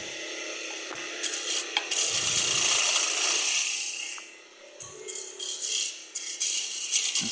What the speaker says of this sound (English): I'll adjust my tool rest so I can just finish those up